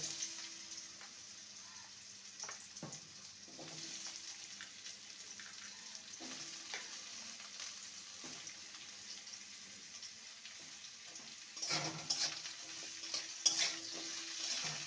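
Food sizzles gently in a pan while a utensil scrapes and stirs in irregular bursts, growing busier and louder toward the end.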